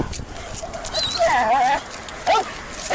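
A police narcotics dog yips and whimpers in short, high, wavering cries, several bursts close by over a noisy background.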